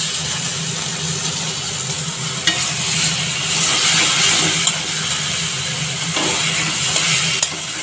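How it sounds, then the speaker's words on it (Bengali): Boiled taro and chickpeas stirred and fried in a pan, a steady loud sizzle and hiss with occasional spoon scrapes, continuous throughout with no voices. "এটাকে ভালো করে নেড়ে চেড়ে একদম শুকনো করব"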